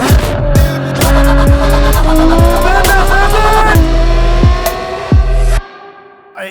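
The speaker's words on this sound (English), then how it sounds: "to be able to drive this F12, especially because this one has got a complete straight pipe" Novitec-tuned Ferrari F12 with a full straight-pipe exhaust, a loud close V12 roar climbing through repeated revs with sharp shifts between gears, ending abruptly as it cuts off.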